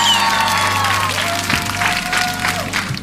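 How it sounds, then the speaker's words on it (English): An audience at an end-of-year spoken word poetry event breaks into sustained applause, with crowd noise and a steady tone running beneath the clapping. "Applaudissez."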